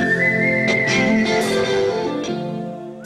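Whistled melody from a song, a clear sustained whistle carrying the tune over soft backing music, loud and up front for about three seconds before easing off.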